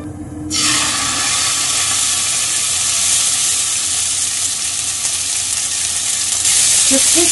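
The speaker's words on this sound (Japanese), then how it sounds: "今日はちょっと見えやすいようにフライパンで焼いています。" Pork hits a hot frying pan with olive oil and starts sizzling loudly, a steady crackling hiss that continues without letup, with a few small pops near the end.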